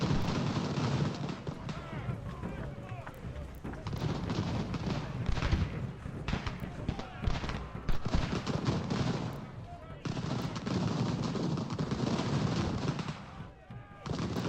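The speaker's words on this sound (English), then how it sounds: "Let's push up and see what the enemy artillery does" Artillery and massed musket fire in the video game Ultimate General: American Revolution, a dense continuous barrage of booms and crackling volleys rolling on throughout, loud and close with brief dips.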